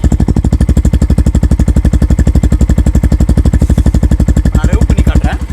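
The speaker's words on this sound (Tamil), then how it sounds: "ஸோ வண்டியை ஸ்டார்ட் பண்ணி காமிச்சிடுறேன், நீங்களே செக் பண்ணுங்கள்." A Yamaha FZ-X motorcycle idles after an electric self start with no throttle, its single-cylinder engine giving a steady, close, loud rapid thump throughout, with faint talk near the end.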